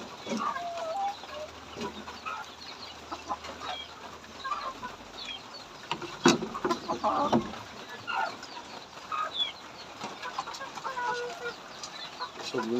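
Several chickens cluck on and off at close range, with scattered squawks and a busy farmyard background throughout.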